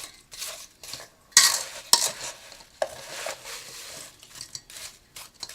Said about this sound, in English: Now that I've got the mixture all stirred up really good